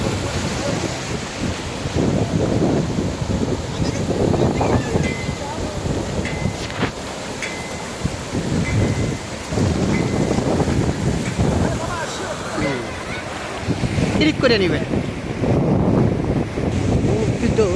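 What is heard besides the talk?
wind blowing at the beach in Kuakata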